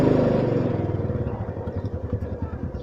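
A motorcycle ride on a cloudy afternoon, with the engine's steady mid-pitched drone and a regular throbbing pulse running close and loud throughout, and no talk over it.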